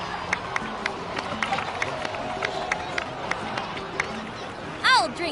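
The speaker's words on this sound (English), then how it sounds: "please give another round of applause for them" A crowd in Genshin Impact's Natlan region claps and cheers in a steady patter of applause with scattered whoops, while a voice speaks over it and a rising whistle-like effect sounds near the end.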